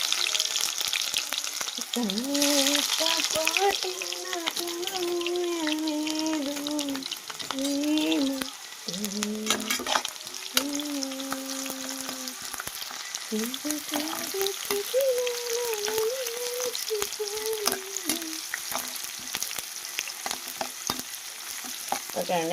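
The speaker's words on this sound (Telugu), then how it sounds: "ఉల్లిపాయలు అయితే లైట్ బ్రౌన్ కలర్ అయితే వచ్చేంతవరకు అయితే వేపేసుకుందాము" Sliced onions fry with tempering spices in hot oil and are stirred now and then, giving a steady crackling sizzle while a person talks over it.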